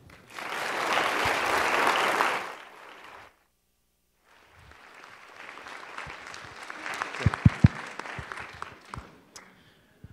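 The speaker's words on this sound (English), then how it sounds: "please just join me again in applauding our two distinguished speakers" Audience applause after a pair of TED-style conference talks: a loud burst of clapping fades out, then after a short silence a second, softer round of applause builds, with a few sharper individual claps near the end.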